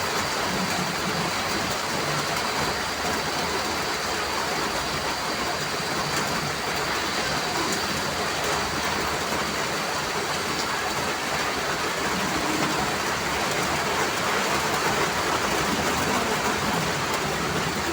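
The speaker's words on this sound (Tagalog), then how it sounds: "Kaya sobrang lakas ng ulan dito sa amin ngayon" Heavy typhoon rain pours down as a dense, steady hiss. It holds constant throughout with no pauses or voices.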